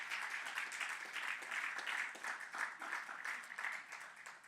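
Church congregation clapping in praise to the Lord, a faint, distant and steady patter of many hands continuing throughout, tapering slightly toward the end.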